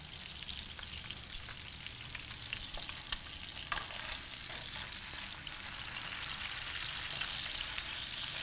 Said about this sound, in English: Our balsamic vinegar is going nicely. We want that to thicken up.